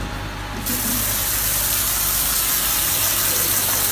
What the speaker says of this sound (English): He's gonna rinse the radiator.